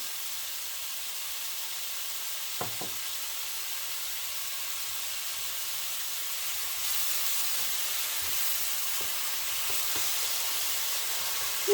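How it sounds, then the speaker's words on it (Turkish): Apples sauté with sugar in a pan, giving off a soft, steady sizzling hiss with a few light clicks of stirring. "biraz daha sotelemeye devam ediyoruz"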